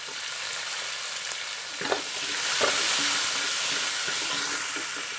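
Onions dropped into rice frying in a pan, giving a steady, loud sizzle with a few stirring scrapes and a rising hiss as they hit the hot oil.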